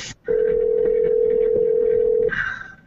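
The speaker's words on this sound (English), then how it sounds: "Answer the damn phone." A telephone sounds a single loud, steady electronic tone for about two seconds, clean and close, followed by a brief fainter tone afterward.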